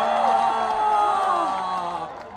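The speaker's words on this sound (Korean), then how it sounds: "다시 한번 뜨거운 박수 부탁드립니다." An audience at an outdoor guerrilla concert and talk show with a K-pop group claps and cheers loudly and steadily for a couple of seconds, with shrill whoops mixed into the roar of the crowd.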